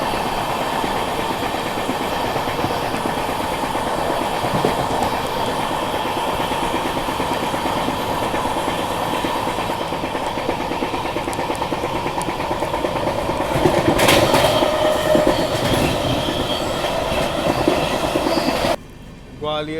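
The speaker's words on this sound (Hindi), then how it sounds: "राजधानी को आज पता नहीं क्या हुआ है, बहुत प्यार से धीरे धीरे निकल रही है आज।" Rajdhani Express train running on rails, a continuous rumble with rhythmic clickety-clack of wheels heard from inside the coach, growing louder and rougher near the end before dropping off, with faint talk at times.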